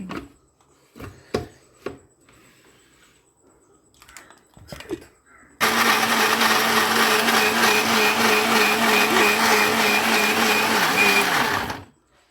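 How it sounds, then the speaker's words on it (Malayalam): A kitchen mixer grinder churns arrowroot with water, starting abruptly after a few sharp clicks and knocks and whirring loud and steady for about six seconds before cutting off. "ഒന്ന് മിക്സിയിലിട്ട് ജസ്റ്റ് ഒന്ന് കുറച്ച് നേരം ഒന്ന് കറക്കി കൊടുക്കുക"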